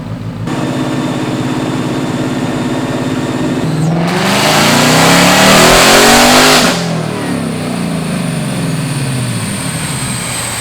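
Supercharged 2024 Mustang GT with a Stage 1 Whipple supercharger on a dyno, idling loudly before a hard rev swells into a roaring, whining surge for several seconds, then drops back to a steady idle.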